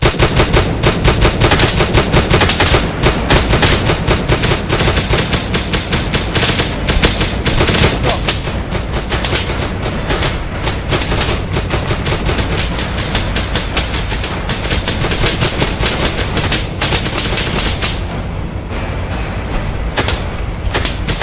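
Gunfire in the game Miscreated: loud, sustained rapid automatic bursts and repeated shots fill the scene almost continuously, dense and close, with only brief thinning near the end.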